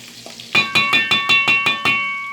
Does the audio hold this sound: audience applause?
no